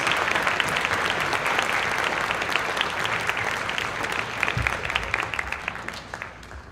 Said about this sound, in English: Please give them a round of applause to help me thank them for helping out with this,